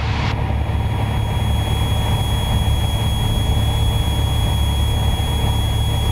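A Piper Dakota single-engine aircraft at cruise after a power reduction, heard as a loud, constant engine drone filling the cabin without a break.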